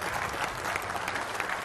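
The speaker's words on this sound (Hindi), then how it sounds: "तालियों के साथ स्वागत कीजिए मलुक नागर साहब, नेशनल जनरल सेक्रेटरी आरएलडी के।" A studio audience at a televised political debate claps to welcome a panel guest, a party general secretary, with dense, sustained applause from many hands at an even level throughout.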